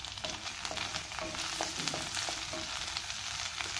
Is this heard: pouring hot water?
no